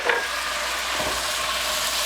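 A loud, steady sizzle as water is splashed into a hot frying pan of frikadeller, with a brief bubbling burst partway through.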